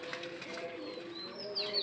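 A sick pet pigeon gives soft, low, continuous cooing with a faint high whistle-like tone near the end, close by and fairly quiet.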